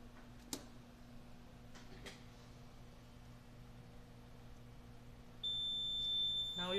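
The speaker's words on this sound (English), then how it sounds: "this is blinking and you can hear the alarm as well" RTK P725 annunciator alarm sounding: after a few faint clicks over quiet background hum, a steady high-pitched electronic tone comes in near the end and holds, fairly faint.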